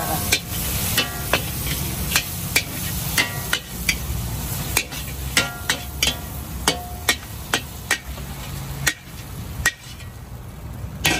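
Mee mamak noodles stir-fried in a pan at a Penang stall, with steady sizzling and rhythmic sharp metal clanks of a spatula against the pan, close and loud throughout.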